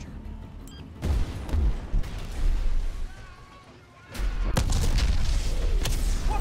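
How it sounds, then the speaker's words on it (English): Explosions and heavy gunfire crash through a Medal of Honor: Warfighter battle, loud booms and rumbling blasts in bursts with a brief lull before a sustained barrage. "Big explosions."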